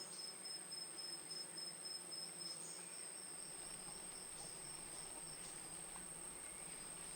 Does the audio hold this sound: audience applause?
no